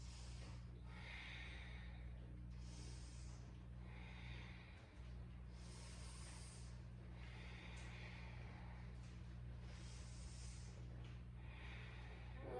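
Deep Ujjayi yoga breathing, slow audible breaths with a soft throat-constricted hiss, repeating in long cycles of roughly four seconds, faint and close, over a steady low hum and without talking.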